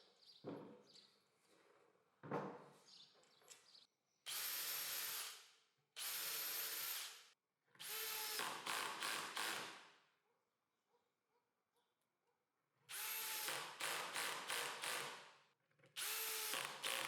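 A power drill drives screws into a wooden workpiece for a DIY table saw sliding carriage, with several loud, close bursts of whirring separated by pauses, some ending in short stuttering pulses as each screw seats.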